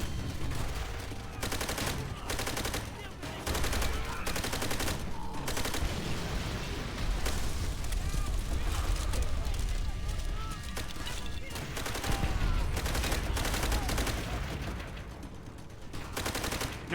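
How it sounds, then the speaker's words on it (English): Type 100 submachine gun from Call of Duty: World at War firing in dense, rapid bursts through a loud battle din, with gaps between volleys and more gunfire and commotion around it. "Type 100 submachine gun, piece of shit, like most Japanese weapons."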